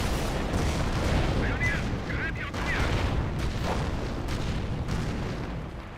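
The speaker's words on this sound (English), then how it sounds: "Your Warframe Barrage is going to be taking out the 25 pounder and may hit some of these guys nearby" A Company of Heroes rocket barrage strikes a 25-pounder gun position, giving a steady churn of booming impacts and rumble that carries under a commentator's ongoing talk.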